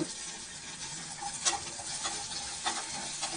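Onions fry in a pan for capsicum kootu, giving a soft, steady sizzle broken by a few light stirring scrapes. It is close but quiet, and no one speaks.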